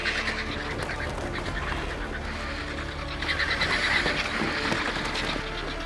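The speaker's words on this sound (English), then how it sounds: "The strongest birds mark their position." A large flock of birds squabbles while feeding in the Iberian Peninsula countryside, producing a dense, constant chatter of harsh calls and cackles that swells slightly midway.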